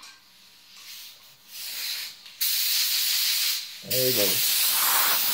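Copper base coat is sprayed onto a plaque in several hissing bursts of varying length, close and loud, with brief talk between them.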